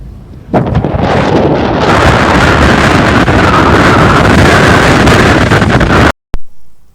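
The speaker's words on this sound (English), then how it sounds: "You want to listen to the sound noise of the wind?" Strong wind roars and buffets against the microphone in Spiti Valley on the road to Tabo, a loud, steady broadband rush that starts abruptly and cuts out near the end.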